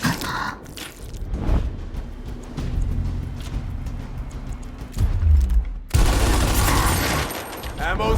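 Gunfire in the squad-based strategy game Gears Tactics: a sustained burst of automatic weapon fire with mechanical clatter, followed by a louder, denser barrage near the end.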